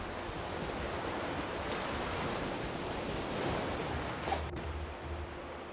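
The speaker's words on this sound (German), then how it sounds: "Dann noch jetzt dieser blöde Wind." Steady wind and rolling ocean surf in the survival game Raft, a continuous broadband wash with a brief gust swell near the end and no talking over it.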